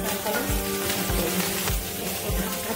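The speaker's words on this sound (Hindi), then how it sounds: "अब इसी पैन में हम एक गोभी डाल रहे हैं, उसको भी हम ढक ढक के भूनेंगे" Cauliflower frying in oil in a covered pan, a steady dense sizzle throughout with a few soft low thumps, close and loud, with no talking.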